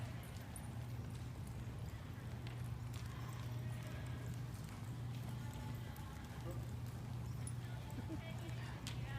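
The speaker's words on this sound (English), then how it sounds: "What a good horse." A horse's hooves clip-clop steadily on the ground during a riding lesson, a continuous rhythmic beat heard faintly beneath a low hum and an instructor's voice.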